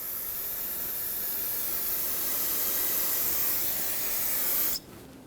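Water spray rinsing a brake rotor hub on a 2009-2011 Ford F-150 during parking brake shoe replacement: a loud, steady hiss for nearly five seconds that cuts off abruptly, leaving low room noise.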